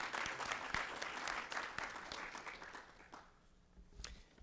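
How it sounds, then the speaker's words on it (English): Audience at a commercial real estate technology conference panel giving a round of applause, steady moderately loud clapping that thins out toward the end, with no talk over it. "Let's give him a nice round of applause."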